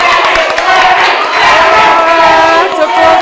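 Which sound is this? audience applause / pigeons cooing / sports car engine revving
audience applause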